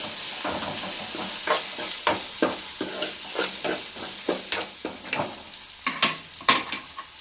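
A cluster bean curry with salt and turmeric is stirred in a pan, and the spatula scrapes and clacks in a steady repeated rhythm over a continuous frying sizzle. The sound is close and clear, with no voices.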